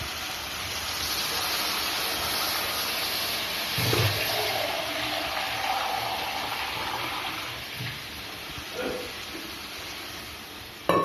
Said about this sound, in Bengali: মশলাগুলো কষানো হয়ে গেছে এবার জল দিয়ে দেবেন